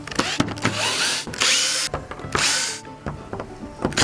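A power drill driving screws up into a block of wood aboard a boat, loud close bursts of whirring that rise and stop in uneven spurts with short pauses and clicks between.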